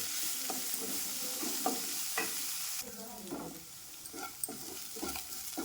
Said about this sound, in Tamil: மெமரி ப்ளஸ் கீரை போட்டு இதையும் போட்டு வதக்குவோம்